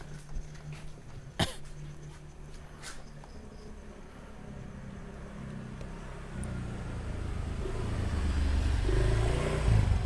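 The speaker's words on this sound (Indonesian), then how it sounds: "Awas, ada motor lagi." A motorcycle rumbles past on a village street, its low engine noise growing louder and closer toward the end after a sharp cough-like sound early on.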